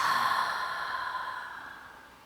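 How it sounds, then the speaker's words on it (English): During a live yoga class, one long, breathy exhale through the lips starts clearly and close, then slowly fades away as the breath empties. "And exhale through the lips just for a moment."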